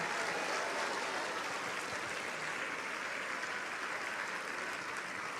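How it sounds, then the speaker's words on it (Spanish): A church congregation applauds in steady, continuous clapping heard from a distance at moderate volume, with no gaps and no talking. "Un aplauso al Señor."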